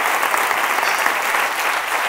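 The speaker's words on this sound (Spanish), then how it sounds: "Fuerte el aplauso." Dense, loud studio audience applause on a live talk show, a steady wash of clapping filling the whole short stretch with no voices over it.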